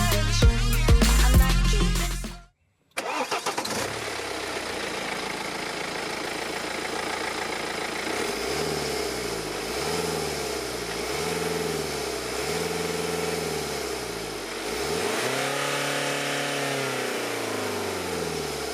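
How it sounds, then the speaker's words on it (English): BMW 316D E90 with a 2-liter 116 hp diesel and manual gearbox, starting up after a brief silence, then idling and revving in repeated rising and falling sweeps, loud and steady with no talk. "It has a 2-liter diesel engine with 116 horsepower and 270 Nm of torque"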